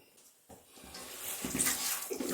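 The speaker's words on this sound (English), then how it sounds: "We add a little bit of ice water" Ice water pours into a sausage meat mixture, a quiet start swelling into a steady splashing, gurgling pour that grows louder over about two seconds.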